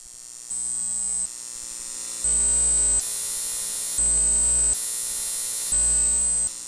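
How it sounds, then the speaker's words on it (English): A dirty, distortion-heavy synth filter bank with its highest frequency band turned up makes a harsh, buzzing electronic drone with a piercing high whine. It pulses on and off in blocks that step louder and hold steady, with no voices. "this is a very, very like dirty, distortion-focused filter bank. So it's not clean at all."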